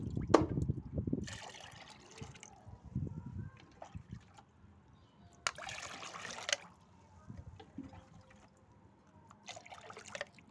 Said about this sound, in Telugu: పొద్దున్న బియ్యం కడిగిన నీళ్ళు, అలాగే పప్పు కడిగిన నీళ్ళు కూడా ఉన్నాయి. ఆ నీళ్ళు కూడా నేను ఇందులో వేసేస్తున్నాను.